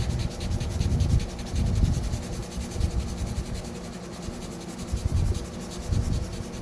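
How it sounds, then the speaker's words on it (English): Wet rubbing on the paint of a 2015 Nissan Frontier to remove surface scratches, a steady close scrubbing with a faint hum underneath and no talking. "Keep wetting it. Keep rubbing. Don't rub hard. Just rub."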